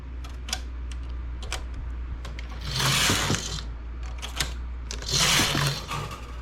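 A domestic knitting machine knitting a lace edging, its carriage sliding across the needle bed in two whooshing passes amid clicking and ticking mechanism sounds over a low steady hum.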